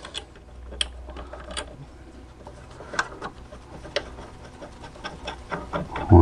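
A ratchet clicks in quick, fairly regular bursts while tightening a small clamp screw on a Fiat Punto, close and crisp against a low background hum, with a louder clunk at the very end.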